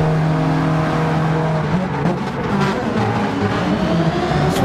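Race car engines in Gran Turismo 7 lapping the Deep Forest circuit, loud and sustained, with steady high revving tones that shift pitch through gear changes as cars chase closely.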